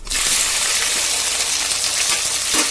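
Mustard seeds, onion, tomato and garlic frying in sesame oil in a kadai give a loud, steady, close sizzle with no talking.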